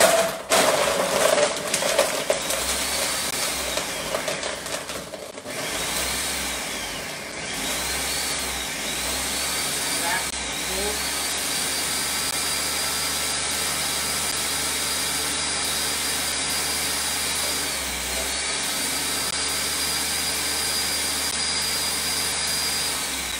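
A cocktail blender's loud motor roars continuously crushing ice with a grinding, rattling edge, steady throughout after a rougher start, with no voices.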